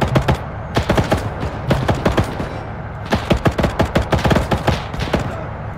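Loud gunfire in a World War II shooter rings out in rapid bursts of sharp, close shots, cutting off in brief pauses between clusters, with no voices.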